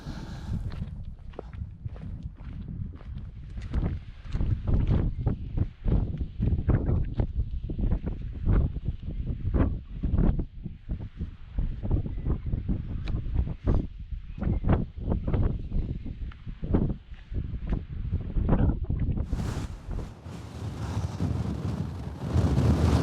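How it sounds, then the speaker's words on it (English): Strong wind roars and buffets steadily against the microphone on a walk up toward a summit, with gusty surges and occasional crunching steps throughout. "It's really windy now."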